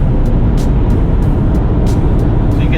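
A Corvette ZR1 or Dodge Demon revs hard under a sudden throttle punch, its automatic dropping straight into fourth gear, giving a loud, steady engine roar throughout with short higher bursts pulsing over it.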